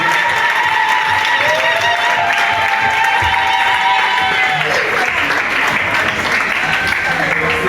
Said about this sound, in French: Est-ce qu'on peut les applaudir bien fort?